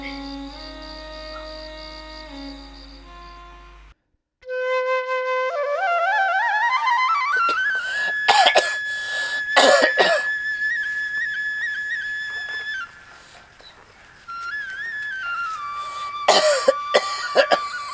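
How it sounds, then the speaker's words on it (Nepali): An old man coughs repeatedly in short bursts at night in a home, the harsh coughs standing out loudly over a music background with whistling tones. "यो बुढा कति खोक्यो।"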